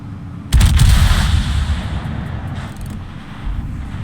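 A battleship's main-gun salvo from a Tier 10 Commonwealth battleship in World of Warships: one loud, deep booming blast that rolls on in a long rumbling decay.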